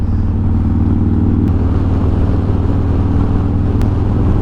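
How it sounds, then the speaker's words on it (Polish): A Harley-Davidson motorcycle engine with a Vance & Hines Fuelpak 3 Stage 1 setup idles and runs steadily with a deep, loud, throbbing rumble, close by, with no talking. "silnik pracuje dużo bardziej płynnie"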